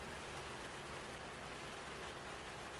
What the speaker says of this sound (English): As we listen to the pitter patter of the rain